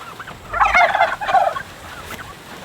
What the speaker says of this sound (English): These turkeys are our heritage breed turkeys